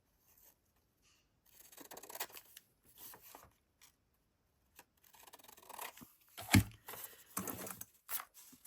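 Scissors trim a paper bag, producing short bursts of snipping and crinkly paper rustle that come and go with pauses between cuts, close by and fairly faint.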